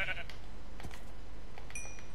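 Sheep bleating in the Minecraft video game: a short, close bleat at the start, then fainter calls over steady background game noise.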